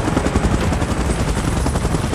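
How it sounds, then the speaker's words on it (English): Loud, constant whirring rotor roar from a helicopter in the PUBG Mobile game, a dense unbroken drone with no speech. "Chopper in position."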